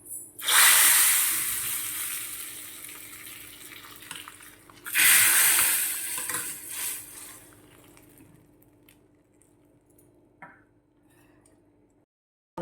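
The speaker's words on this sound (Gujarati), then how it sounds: "તો હવે આપણે વઘારને દાળમાં નાખી દઈશું" Hot tempering with red chilli is poured into Gujarati dal, giving two loud bursts of sizzling that hiss and fade, followed by quieter crackling.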